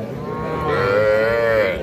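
A young bull calf at a cattle market lets out one long, loud, close moo that swells and fades, standing alone over the faint murmur of the market.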